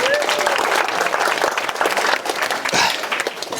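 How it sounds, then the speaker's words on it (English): Wedding guests give the groomsmen a big round of applause during the speeches, loud and close, with dense clapping mixed with crowd noise, whoops and a shout partway through. "ladies and gentlemen, massive round of applause for those"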